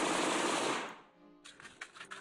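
Burst of gunfire in the Steins;Gate video game: a dense, loud spray of rapid shots fades out, then a quick series of sharp staccato pops follows.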